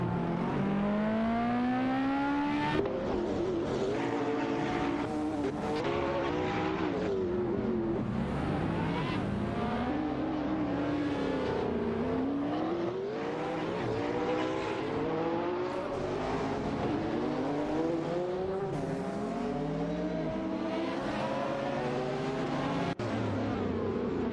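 Race cars in a career-mode racing video game roar continuously, engines revving up and down through gear changes with cars passing, a dense, steady motor drone throughout.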